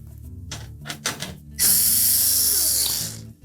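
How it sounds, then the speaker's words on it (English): Quarter-inch hex head screws come out of the back access panel of a GE range. A few small clicks and taps lead into a steady, fairly loud power-driver whir lasting about a second and a half. "We'll simply remove the screws that secure the access panel in place."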